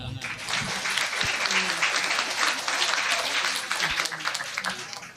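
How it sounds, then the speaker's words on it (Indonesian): A crowd claps steadily and warmly for several seconds at a school report-card and ranking award ceremony, a dense patter of hands filling the room. "Tepuk tangan."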